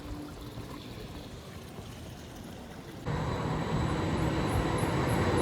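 A train passes in the city of Freiburg, Germany, its steady rumbling wash stepping up sharply partway through and staying loud and continuous to the end.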